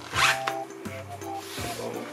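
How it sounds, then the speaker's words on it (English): A zipper on a small toy bag is pulled in three quick successive strokes, each a short close rasp, with brief pauses between them. "Like the zippers zip like in four different ways"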